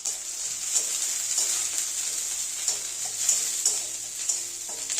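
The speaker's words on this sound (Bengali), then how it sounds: "রসুনটা দিয়ে দেবো" Garlic and onion sizzle steadily in hot oil in a wok, a dense continuous crackle with occasional stirring scrapes, close and alone with no talking.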